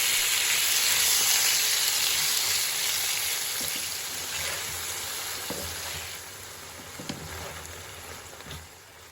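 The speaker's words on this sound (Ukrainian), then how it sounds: "у пательню вливаю трішки олії і викладаю куряче філе. Обсмажую його 5 хвилин." Continuous sizzling of chicken fillet frying in oil in a pan, loud and close, gradually settling, with a few light clicks near the end.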